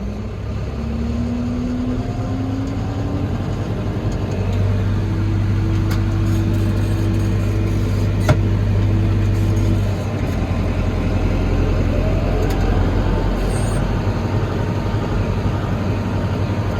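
Tractor engine running with the PTO engaged while hauling manure: a steady mechanical drone with tones that climb in pitch as it revs up, holding loud and constant before easing back slightly.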